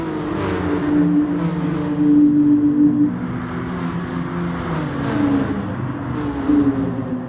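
Volkswagen Scirocco race cars in a video game league race on the Dragon Tail Seaside track: a steady, layered engine drone with rising and falling pitch as the cars rev and shift, loud and continuous with no talk.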